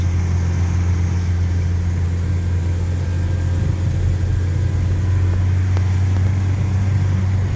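Steady low drone of a Hyundai i20 with manual gearbox rolling slowly across a driving-test course toward a hill start, a constant near engine and road rumble with no talk over it.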